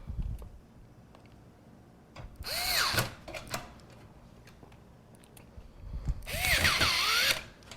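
A power drill drives screws to secure a PC power supply, whirring in two short bursts that rise and fall in pitch with faint ticking mechanical sounds between them, moderately quiet.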